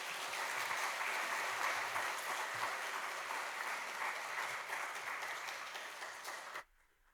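A church congregation at a Sunday morning service claps for a newly ordained pastor: sustained, dense applause from many hands filling the room, holding steady for several seconds before cutting off abruptly into quiet.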